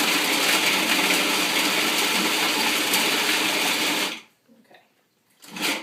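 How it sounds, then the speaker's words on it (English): Blender pulsing dates for raw cacao truffles, a loud whirring burst for about four seconds, then a short pause and a brief second whir. "I'm going to blend my dates first just a little bit."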